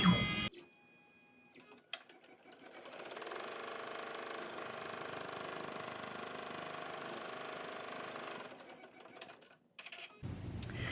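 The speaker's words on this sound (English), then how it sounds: "now we're going to sew a straight line here" An embroidery machine stitches a straight line in the hoop, a steady mechanical whirring and rapid needle chatter that runs for several seconds between quieter pauses.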